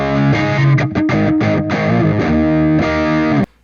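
Electric guitar played through a compressor effect in the Audiosingularity Neurontube Tangie amp sim plugin, loud evenly sustained chords with a few choppy stops, then an abrupt cutoff near the end; no talking.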